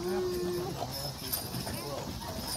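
Horse hooves clip-clop on the ground at a farmstead, a steady rhythmic clatter heard under ongoing talk and outdoor background noise.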